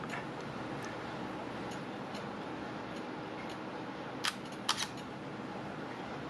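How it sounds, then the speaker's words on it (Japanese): An Olympus PEN mirrorless camera, rebuilt from E-PL5 and E-PL6 bodies, fires its shutter in two quick, crisp clicks close to the microphone. Faint ticking sits under a steady background hiss. "シャッターの音がいいですね。"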